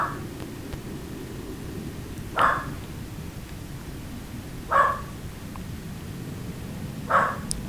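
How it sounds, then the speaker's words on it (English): Dogs bark indoors in three short, moderately distant bursts spaced a couple of seconds apart over a steady low hiss. "I apologize for my dogs."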